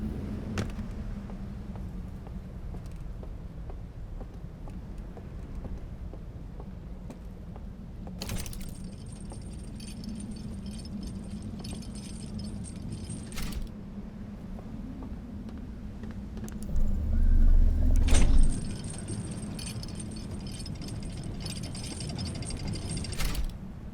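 An elevator runs in the video game Outer Wilds with a steady mechanical hum and grinding rattle that lasts throughout. Clicks and a high ringing tone mark stops and starts, and a deeper rumble swells near the end.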